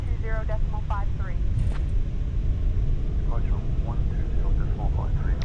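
Airliner engines spool up for a takeoff roll on runway 09 right at Heathrow in Microsoft Flight Simulator 2024, a steady, loud broadband roar with low rumble, under radio chatter and cockpit callouts.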